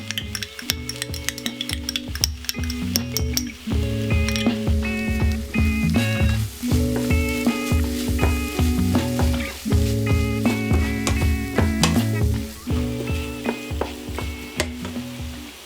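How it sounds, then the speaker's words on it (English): Flour and ketchup stirred in a frying pan for Hayashi rice sauce: a loud, steady sizzle with repeated spoon scrapes and stirring strokes against the pan, with no talk over it. "Now add 2 tablespoons of ketchup and mix it again."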